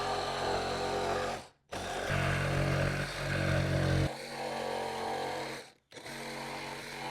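A power tool cuts a speaker opening in the plastic fairing of a 2012 Harley Electra Glide: a loud, close, sustained buzzing whine in long runs with brief stops, its pitch and load shifting as it cuts.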